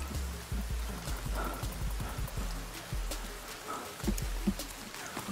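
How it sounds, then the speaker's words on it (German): Rain in the survival video game The Forest, a steady patter of drops with scattered sharper splashes over a low rumble, moderately loud and continuous. "Yay, es regnet!"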